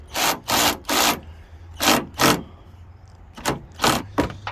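Ratchet tightening a headlight assembly fastener on a 1994-2001 Dodge Ram 1500, close bursts of rasping clicks in quick strokes: three, then two, then a few more, separated by short pauses.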